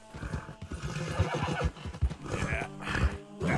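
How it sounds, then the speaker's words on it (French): A horse in the Western video game Red Dead Redemption 2 whinnies loudly and repeatedly, its neighs mixed with clip-clopping hooves, close and busy throughout. "Calme-toi. Calme-toi, le cheval."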